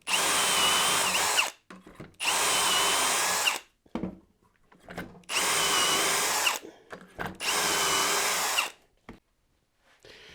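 A power drill bores dowel holes into wood held in a jig, in four loud, close bursts of whirring and grinding a second or two long, separated by short pauses with small clicks and handling noises.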